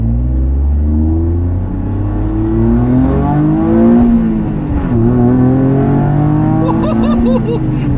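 A Toyota GR Yaris engine pulls hard and continuously on the Mandalika race circuit, pitch rising then dropping and climbing again through shifts, loud and close from the cabin.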